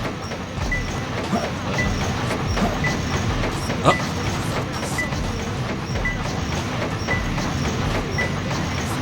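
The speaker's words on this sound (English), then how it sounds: "placing the ghost train at the bottom, using the switch" A ghost train in a video game chao garden rolls along with a continuous rumbling rail noise and faint clickety-clack, holding steady throughout.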